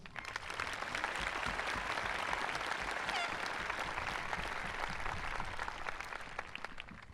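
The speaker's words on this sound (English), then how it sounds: "Let's give us a big round of applause." A large crowd applauding at a high school graduation, a dense steady roar of clapping that holds for several seconds without pause.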